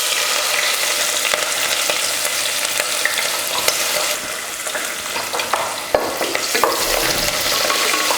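Mustard seeds and onion frying in hot oil, a steady close crackle and sizzle with scattered pops and occasional stirring scrapes throughout.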